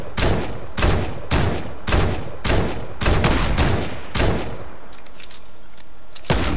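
Video game gunfire: a steady run of about eight loud, evenly spaced shots roughly every half second, then a pause and one more shot at the end, with no speech.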